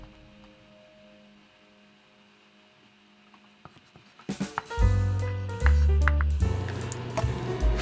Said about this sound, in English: Fry minced meat.